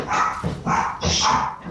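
A dog barks loudly and close by in three sharp bursts during a ranked League of Legends-style gaming session, each burst dense and harsh, with no talk over it.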